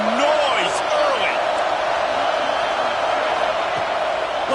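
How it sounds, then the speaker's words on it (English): A stadium crowd roars throughout at a college football game between Kennesaw State and third-ranked Ohio State, a dense sustained wall of cheering and noise. "This crowd bringing the energy and noise early."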